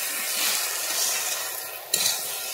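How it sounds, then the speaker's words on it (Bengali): Hilsa fish head and cabbage curry being stir-fried in a pan makes a continuous moderate sizzle, with a short utensil scrape against the pan near the end. "ভালোভাবে কষে নিচ্ছি এবার আমি।"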